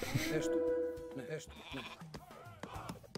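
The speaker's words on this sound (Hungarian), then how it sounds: "jó nagy kecskék lettek ám." Goats in the video game Age of Mythology bleat several times in short wavering calls, mixed with game effects and a person talking over them.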